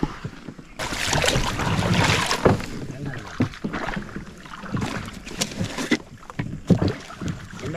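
A canoe-style boat moves along a waterway through jungle in Sri Lanka, with paddling and water sloshing near the microphone, some wind noise and intermittent bursts of talk.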